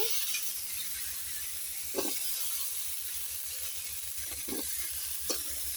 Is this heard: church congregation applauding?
no